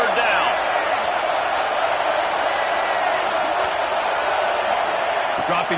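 Steady stadium crowd roar from a College Football 26 game against Arkansas, a dense, continuous wash of cheering noise rising on a defensive third down, loud and unbroken with no distinct voices.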